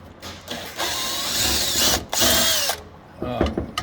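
A power drill whirs in several bursts with brief pauses, backing a screw out of the auger tube on a pellet grill, close and loud with faint tool clatter between runs.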